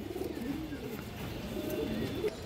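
Pigeons coo softly in a low, repeated rhythm on a pigeon farm, with a quiet rustle behind them.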